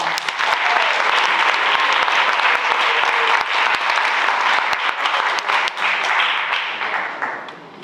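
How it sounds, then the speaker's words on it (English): Sustained applause from a big crowd at a Women's History program, dense and loud throughout, with individual claps popping through before it begins to fade at the end. "a round of applause"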